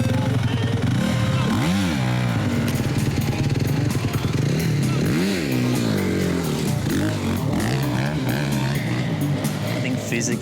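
A dirt bike engine revs hard and loud during a ride, with rising and falling throttle swells and rough rattling under a commentator's voice.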